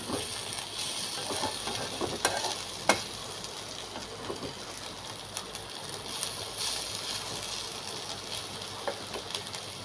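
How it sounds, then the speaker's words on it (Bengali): Local shrimp fry in a pan with a soft, steady sizzle and scattered pops and clicks, fairly quiet throughout with no speech. "এই তো দেখেন চিংড়ি মাছটা ভাজা শেষ"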